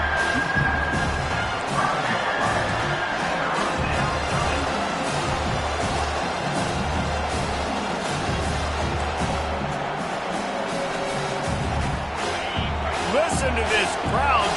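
Stadium crowd in College Football 25 roars for the defense, a loud sustained wall of cheering and shouting that rises and swells under a commentator talking throughout.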